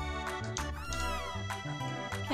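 Cat meows in the Chrono Trigger game sound over backing music, a few repeated clear cries in quick succession.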